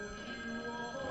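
A telephone bell ringing with a steady tonal buzz, heard briefly in a movie scene with no speech over it.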